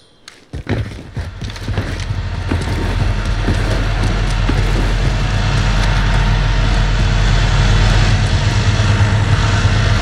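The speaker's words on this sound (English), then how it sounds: "UAV entering the AO" A UAV drone aircraft flying overhead in a video game, a loud continuous engine drone and roar that swells in after a brief sharp start and holds steady to the end.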